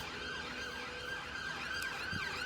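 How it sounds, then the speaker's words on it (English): Ambulance siren wailing in a steady up-and-down sweep as it passes outside, loud and continuous throughout over a low traffic rumble. "There's the ambulance for some of the Leicester players, I think, just bobbing by."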